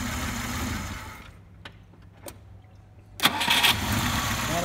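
A VAZ car engine with a newly installed contactless distributor: a noisy stretch, a quiet gap with a few clicks, then the engine cranks and catches loudly near the end and keeps running.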